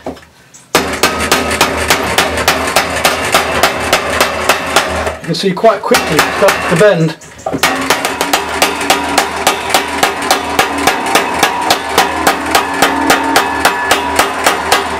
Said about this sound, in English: I've got some wood underneath here, and I just have to beat it with the hammer along those lines.